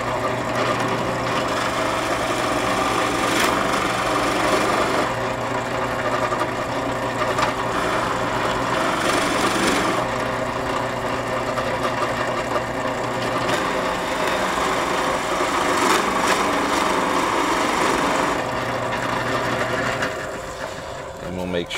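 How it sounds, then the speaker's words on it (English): A drill press runs with a continuous motor hum and whine while a Forstner bit is lowered slowly into pine, the pitch shifting slightly as the bit grabs, with some faint background noise throughout. "Whenever we're using a Forstner bit on pine, we just lower it in very slowly, not a lot of pressure"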